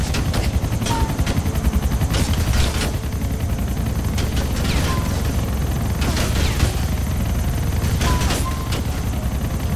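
Helicopter in the GTA IV / San Andreas video game, a steady rotor drone and engine rumble filling the whole stretch, with bursts of gunfire mixed in throughout.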